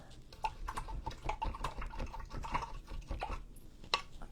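A paintbrush is rinsed in a small container of water, close-up swishing and light dripping with soft knocks of the brush against the sides, steady and irregular throughout.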